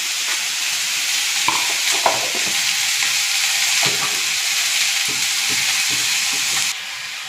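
Onion gravy with spices sizzles steadily in a pan while it is stirred, a loud continuous frying hiss broken by occasional scraping clicks.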